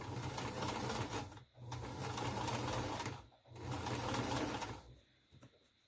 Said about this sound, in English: I'm using my hand and the presser foot to open up this teeth, open up the teeth, and sew right in this crevice here